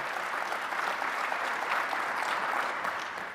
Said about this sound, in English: Big round of applause for Joe